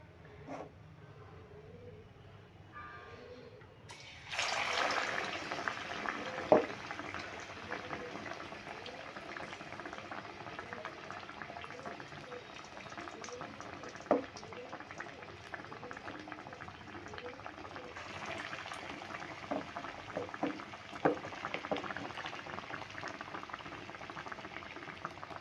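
Besan-battered fritters drop into hot oil, and after a few seconds of quiet a bubbling sizzle bursts up and keeps churning steadily, close and fairly soft, with no voices.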